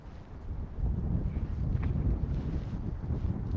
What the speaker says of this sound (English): It's a little windy on this side